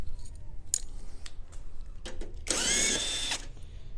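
An impact wrench on a Royal Enfield Classic 350 loosens thread-locked bolts in a single loud, broadband burst of about one second, after a few sharp metallic clicks and taps.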